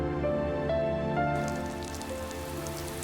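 Steady rain falls on a surface, a dense continuous patter running the whole time under a sustained musical tone, with no talking.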